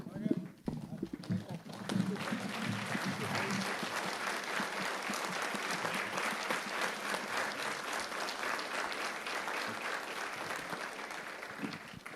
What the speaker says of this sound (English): I think they deserve a standing applause.